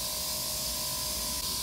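An airbrush sprays soapy cleaner through its nozzle while clearing out nail-art color, giving a steady, close hiss that runs unbroken for under two seconds.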